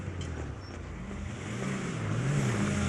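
A car engine revving steadily and building in loudness, a low continuous growl with rising pitch near the end, heard close with no talk.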